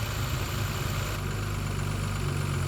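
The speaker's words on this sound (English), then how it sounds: "the thickness, the solidness of the noise the engine makes" Singer-reimagined Porsche 964 Carrera engine idling, a thick, solid low rumble running steadily throughout with no talk.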